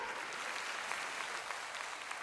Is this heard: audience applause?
yes